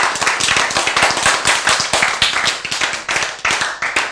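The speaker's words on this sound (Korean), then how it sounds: "박수." Audience in a church sermon bursts into sharp, rhythmic clapping, a loud, close burst of many hands striking together steadily for about four seconds with no talking over it.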